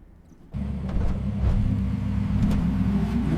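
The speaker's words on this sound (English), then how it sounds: "this should be the video of a Lamborghini in the mountains opening up" A Lamborghini engine in an AI-generated ad set in the mountains starts after a short quiet lead-in, then holds a steady, loud, low rumbling roar that keeps going to the end.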